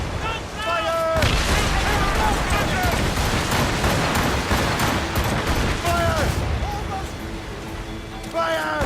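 Ship cannons fire in repeated heavy volleys during a naval battle in the Assassin's Creed Rogue video game, loud booms rolling over one another amid crashing water and shouted battle calls.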